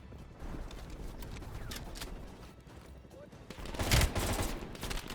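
Shotgun fire in Black Ops Cold War, with one loud, sharp blast standing out near the end over a busy, constant background of game noise and scattered smaller shots.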